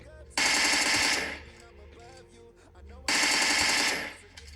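Bursts of rapid automatic gunfire from a mobile video game played on a Poco X3 phone, two loud sustained volleys separated by a quieter gap, with no talking.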